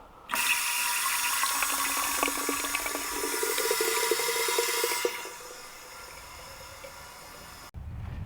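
Water runs from a tap into a container at a bushcraft shelter, a bright steady gush with a rising filling tone that stops after about five seconds, leaving quiet ambience before a short final thump.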